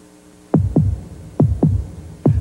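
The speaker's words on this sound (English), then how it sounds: "Listen to the heartbeat." Heartbeat sound effect from a 1988 TV commercial for the new Beretta sport coupe: three loud, deep lub-dub double thumps at a steady rhythm over a faint hum, with no talking.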